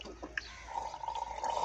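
Water rinsed around the mouth and gargled during wudu, a brief wet bubbling with a few soft splashes, close and fairly quiet, with a steady gurgling tone building toward the end.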